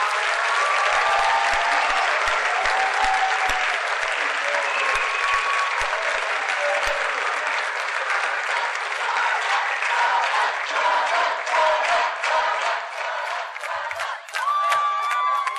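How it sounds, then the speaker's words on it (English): A concert audience at a high school fall choral concert applauds the choir kids, a dense sustained clapping with a few scattered cheers and whoops that thins out toward the end. "Would you please give these kids a round of applause?"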